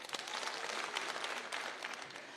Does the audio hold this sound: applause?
yes